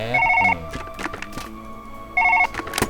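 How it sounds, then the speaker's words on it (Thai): A telephone rings inside the surgery game Surgeon Simulator 2013, two bursts of rapid trilling bells separated by a pause, loud and close, with other clattering sounds between them. "เขาต้องไปรับโทรศัพท์แป๊บ"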